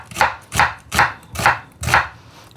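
A sharp kitchen knife chopping food on a board during home cooking for a lamb dish, five crisp, evenly spaced chops in a steady rhythm, close and clear with no talk.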